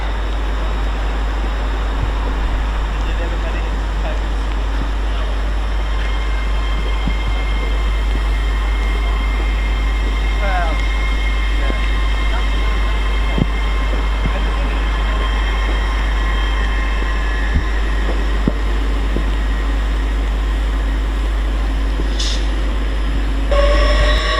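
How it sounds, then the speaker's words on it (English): Lumo class 803 train 803005 passes through Doncaster station on the East Coast Main Line, heading from Edinburgh to King's Cross: a loud, steady rumble and roar with rail clatter throughout and a brief horn near the end. "803005 working its service from Edinburgh to King's Cross."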